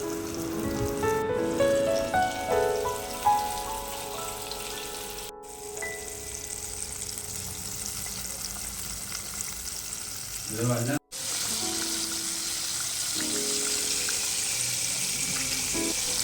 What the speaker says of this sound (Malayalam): ഇതിന് നമ്മൾ ഇടയ്ക്കിടയ്ക്കൊന്ന് തിരിച്ചും മറിച്ചും ഇട്ട് കൊടുത്ത് വേണം നമ്മൾ ഫ്രൈ ചെയ്തെടുക്കാനായിട്ട്